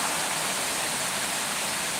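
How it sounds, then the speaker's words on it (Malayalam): Heavy downpour of rain, a dense, unbroken hiss of water that is loud and close and steady throughout, with no voices. "പെരുമഴയാണ് പെരുമഴ ഭയങ്കര മഴ"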